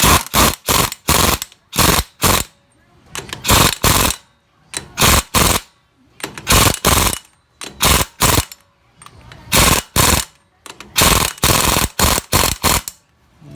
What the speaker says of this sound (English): on this one I will use the impact, tighten it up